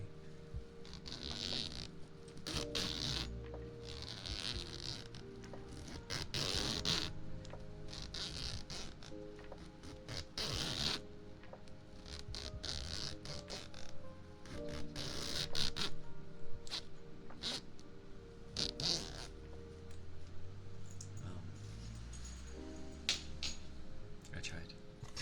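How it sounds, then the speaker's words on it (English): A clothing zipper is drawn slowly and gently, close to the microphone, in ASMR style, making staggered raspy bursts again and again, with soft, quiet talking in between. "The good old zipper."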